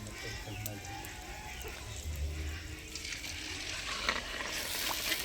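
Puchka (panipuri puris) fry in hot oil, a faint continuous sizzle and bubbling with occasional stirring clinks, rising somewhat toward the end.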